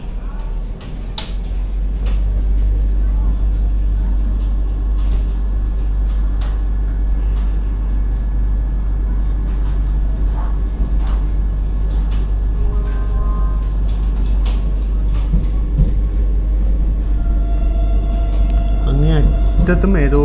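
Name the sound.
Vande Bharat Express train departing, heard from the AC chair car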